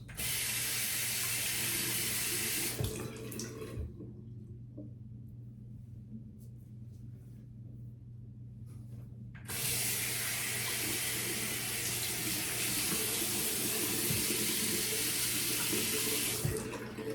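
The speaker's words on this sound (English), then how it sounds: "All right, I'm gonna wash my hands." Tap water runs steadily into a sink as hands are washed, a loud continuous splashing hiss that cuts off for several seconds midway before the flow resumes at full strength.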